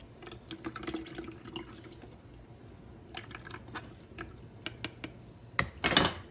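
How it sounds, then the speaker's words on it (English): Water drains from egg carton paper pulp, trickling and splashing with small drips and wet squelches, then a louder burst of draining water near the end, close and fairly quiet. "So I let the water drain out to get this pulp"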